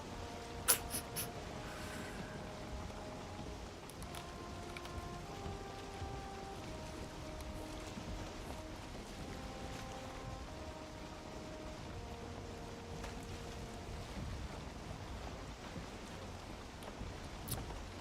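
A boat sailing outward over open water in a video game, heard as a faint, steady wash of water beneath soft, sparse tonal music, with no talk.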